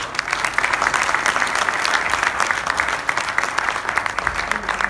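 An audience at a poetry recital claps steadily, a dense, lively round of applause from many hands that fills the whole stretch at close range, with no voices over it.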